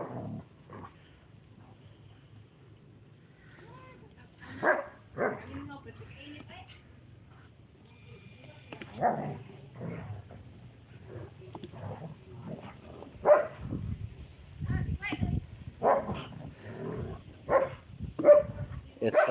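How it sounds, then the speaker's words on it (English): Dogs fight outdoors in the Philippines, growling and barking in rough bursts that build toward the end, mixed with people talking nearby. "There's a dog fight."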